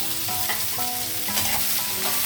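Cauliflower, green chillies and curry leaves sizzle steadily in a hot pan, loud and close, with a few brief stirring scrapes and no talking.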